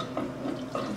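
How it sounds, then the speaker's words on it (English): Water being added to a cooking pot of steamed food for French onion soup, a short soft splash and trickle, faint and close with no talk. "I'm adding water to it because I steamed it"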